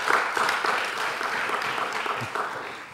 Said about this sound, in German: Klatschen Sie deshalb?